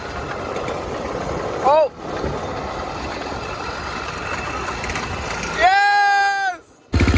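A two-stroke engine on a motorized bike runs on gas and soap, buzzing steadily and fairly loudly throughout, while excited shouts break in over it and the noise cuts out briefly near the end.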